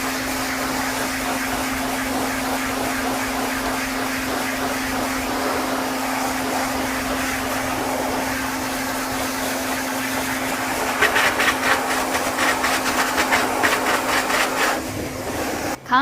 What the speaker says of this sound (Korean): 드라이로 말려주시는 게 좋아요